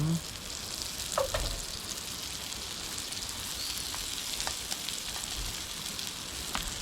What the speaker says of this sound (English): English muffins toasting.